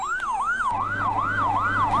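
Fire engine siren wailing at an emergency drill at Husein Sastranegara airport in Bandung, a loud, steady rising-and-falling sweep repeating about every half second, joined partway through by a low engine rumble underneath, with no talking.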